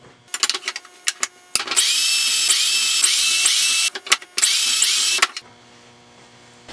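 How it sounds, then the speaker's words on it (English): A power drill whines loudly in two long sustained bursts, boring shelf pin holes in a wooden cabinet divider with a jig, with clattering handling noises before and between them, close up. "I needed to drill some shelf pin holes on the divider"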